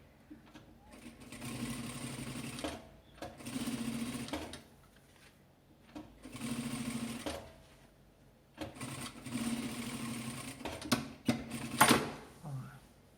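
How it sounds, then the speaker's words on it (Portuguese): Sewing machine stitching strips of fabric scraps, running in four steady whirring bursts of a couple of seconds each, separated by pauses with small clicks and handling noises, close and moderately loud with no talking over it. "Vou costurar mais 1, 2 faixinhas só para vocês verem."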